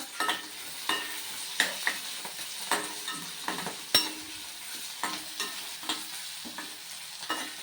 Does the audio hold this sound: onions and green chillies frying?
yes